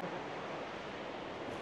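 Mountain waterfall in Taiwan, a steady broadband rush of falling water heard alone at moderate distance.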